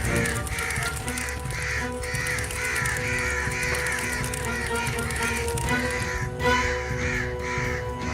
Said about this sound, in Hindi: पेड़ों से, आसमान से बहुत सारे कौवे उन्हें खत्म करने के लिए नीचे आ रहे थे।